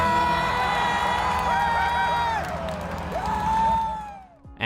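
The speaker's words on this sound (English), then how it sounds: "Those crowd reactions are a big part of what gets you so hyped up" A large audience at an E3 gaming event cheers the Halo Infinite reveal, a loud sustained roar of crowd noise with whoops and shouts over booming music, fading near the end.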